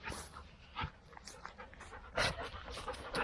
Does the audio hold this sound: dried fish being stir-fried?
no